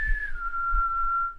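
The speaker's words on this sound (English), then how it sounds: "Can you whistle? Do you know how? Can you try?" A person whistles one sustained note that dips slightly at the start and then holds steady for over a second, close and clear over faint background noise.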